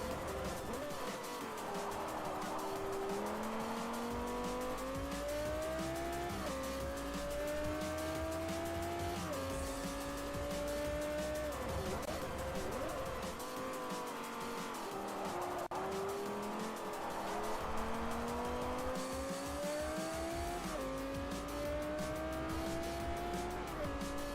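Race car in Forza Motorsport 4 with its rear end sliding, engine whining up and down through gear changes while tires squeal and skid steadily under the drone.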